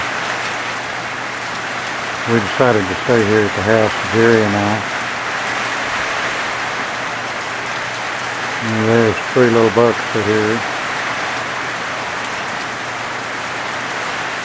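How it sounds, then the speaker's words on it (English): Heavy rain pours steadily on a South Texas ranch near a wildlife feeder, a constant dense hiss running throughout while someone talks over it. "It's pouring down rain."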